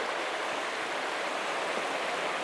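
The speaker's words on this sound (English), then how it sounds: "listen to the river" A mountain river flows beside a cabin porch in winter in New Mexico, a steady, unbroken rushing wash of water held at an even level throughout, with no voices.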